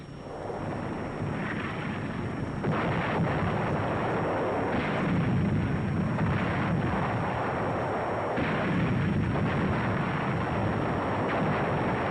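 WWII tank gun battle heard as a continuous, loud, rumbling barrage of cannon fire and explosions blended into a dense, heavy roar, with a few swells where individual blasts stand out, typical of an old wartime film soundtrack.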